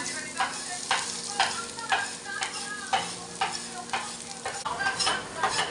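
Chopped garlic stir-fried in a pan with black pepper, cardamom and cloves, a soft steady sizzle broken by rhythmic scraping strokes of the spatula, about two per second.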